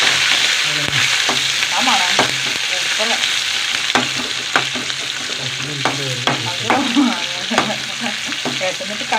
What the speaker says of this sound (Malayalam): കറിവേപ്പില വെളുത്തുള്ളി ചുവന്നുള്ളി ചതച്ചത് അതിലിട്ട് കൊടുക്കുക